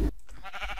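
A single short sheep bleat sounds in Minecraft, close and clear with a wavering tone, heard among a large flock.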